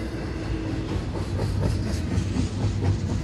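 Freight train hauling intermodal containers and auto racks rolling past nearby, a continuous loud rumble with rhythmic clickety-clack of wheels over rail joints.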